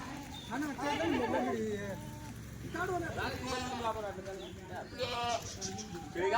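Kathiawadi goats bleat repeatedly in a farm shed, several loud nearby cries overlapping with someone talking throughout.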